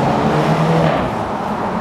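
A BMW Z4 engine accelerates hard on a coastal road, a loud, continuous rising roar mixed with wind noise and no talking.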